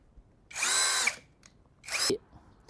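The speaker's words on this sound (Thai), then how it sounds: "ตอนขันออกก็ไม่ต้องปรับทอร์กอะไรนะครับ ใช้โหมดสว่านเลย ขันออก" A cordless screwdriver in drill mode whirs in two short bursts while unscrewing on a lawn mower, the first longer, separated by a brief pause in an otherwise quiet room.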